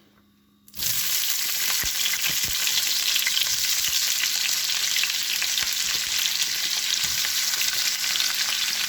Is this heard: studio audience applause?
no